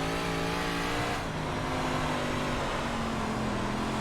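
Dirt 358 modified race car engine in the iRacing game at Lernerville, a loud sustained droning roar with a slight shift in pitch partway through, close and continuous, without talk.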